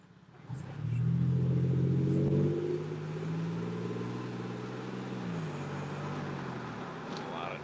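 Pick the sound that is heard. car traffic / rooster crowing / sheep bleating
car traffic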